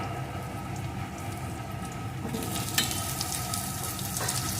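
Potatoes and onion sizzle and fry in a pan for a fish curry, a steady close crackle with occasional stirring scrapes and a brief sharper pop partway through, no voices.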